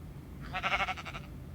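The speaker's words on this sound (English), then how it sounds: "What are you doing, sheep?" Sheep bleating in the Minecraft video game, a single wavering bleat of about three-quarters of a second, clear and fairly close over a low background hum.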